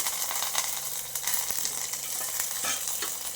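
Coriander leaves fry in a pan for a tomato and ridge gourd chutney, a steady bright sizzle up close with irregular crackling bursts and faint stirring.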